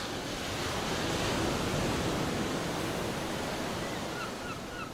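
Steady ocean surf fills the scene with a continuous broad wash of waves, loud and unbroken, with no voices over it.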